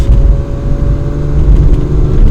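A 1967 Ferrari 330 GTC engine runs steadily from inside the car, a low mechanical rumble and whir that holds constant with no speech.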